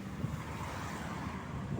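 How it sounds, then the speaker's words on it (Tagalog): Steady strong wind roars and buffets the microphone in a continuous low rush on a bike ride in the Sierra Madre, with no voices. "Grabe, lakas ang hangin dito."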